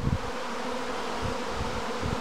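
A honey bee swarm pours out of a hive in June, a steady dense buzzing drone from many bees close by, continuous throughout with no talk.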